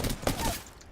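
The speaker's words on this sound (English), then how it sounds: "The enemies are shooting at me." Video game gunfire crackles in a quick burst of shots, fairly close, over roughly half a second before trailing off.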